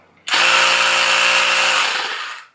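Ryobi cordless tire inflator running, a loud, close, buzzing motor drone that kicks in abruptly, holds steady for about two seconds, then winds down to silence.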